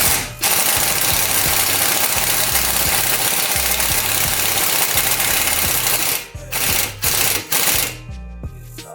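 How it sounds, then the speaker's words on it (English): Impact wrench on its lowest torque setting seating ARP wheel studs on a 2015+ Subaru WRX hub, hammering loudly and continuously for about six seconds, then firing a few short bursts. "Now I'll put that in, and I'm going on my lowest torque setting on my impact"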